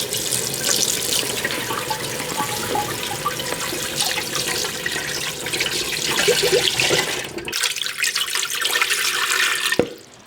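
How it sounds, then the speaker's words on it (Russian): Cold water pours steadily and heavily into an autoclave over jars for several seconds, splashing and gurgling, then briefly cuts off and restarts before a final clunk. "Значит, заливаю холодной водой."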